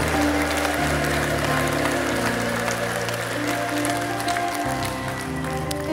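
A church congregation applauding and ululating in praise, a dense wash of clapping and cheering over sustained, droning music.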